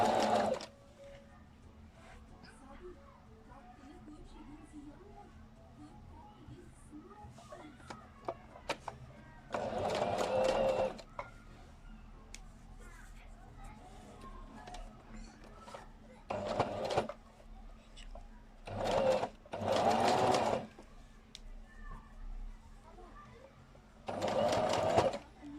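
A sewing machine stitches the edges of a rug made from old T-shirts, running in several short whirring bursts of a few seconds each, with quiet pauses between them and no one talking.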